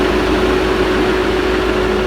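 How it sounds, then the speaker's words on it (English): Cooling fans on a Ford Mondeo run at full blast, a loud, steady rushing whoosh with a constant hum layered over the idling engine, close and unbroken. "That is the cooling fans that just come on, full blast."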